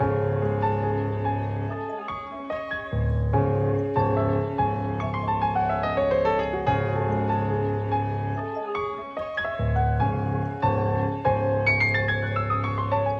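A dark trap sample loop plays with a pitched-down bell layer over sustained low harmonies, the full mix cutting out briefly twice before resuming its looping phrase.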